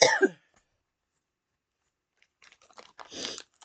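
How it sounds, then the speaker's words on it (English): A single harsh cough bursts out at the start, followed by silence and then close, crunchy chewing of a small piece of cake. "I would really like this cough to go away."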